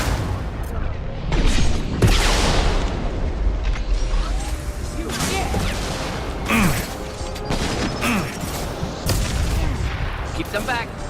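Heavy gunfire in a Mass Effect firefight: repeated sharp shots and bursts crack through a continuous din of combat, some loud close impacts among faster rattling volleys, with a voice briefly heard amid the noise.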